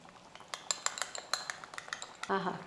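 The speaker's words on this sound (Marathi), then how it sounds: "मस्त रटरट शिजतंय ते आवाज भारी येतोय" Fish curry in a green masala simmering in a pot, with irregular soft pops and plops of thick bubbling liquid at a quiet, close level, ending in a brief denser burst of bubbling.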